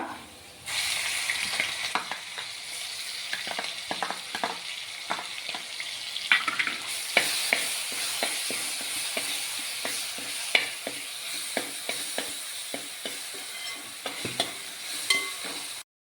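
Crushed ginger, garlic and green chilli dropped into hot oil with dried red chillies, crackling in a loud, busy fry that jumps in intensity partway through, while a spoon clatters and scrapes against the pan throughout.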